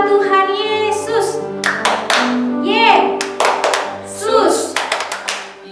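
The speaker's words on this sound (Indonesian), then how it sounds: "Tepuk tangan buat Tuhan Yesus." Children clap their hands in a rhythmic burst during a church Sunday school service, the claps scattered under loud speaking and chanting voices.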